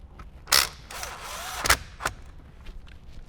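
Mounting screws being driven in while installing a JVC KW-Z1000AW radio in a 2018–2023 Jeep Wrangler JL dash: a sharp click near 0.5 s, then a squeaky, ratcheting creak and a few close mechanical clicks.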